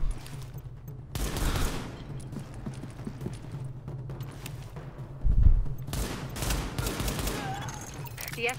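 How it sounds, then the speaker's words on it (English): Bursts of gunfire in the video game The Division, a shooter where a party is under heavy fire from a rooftop gunner; several rattling volleys and sharp shots come and go over a steady low background. "Party's taking heavy fire from the roof"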